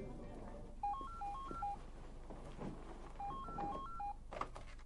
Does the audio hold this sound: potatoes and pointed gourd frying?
no